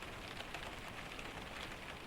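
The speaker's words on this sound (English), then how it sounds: "The rain begins before you are ready for it." Rain falling steadily on a cedar forest canopy, a dense, even hiss of drops, soft and continuous with no voices.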